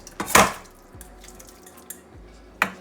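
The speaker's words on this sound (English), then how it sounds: "just want to pour it back in the pan." Drained shrimp are poured back into a pan with a quick wet splash and clatter, followed by a couple of light knocks and drips, close and otherwise quiet.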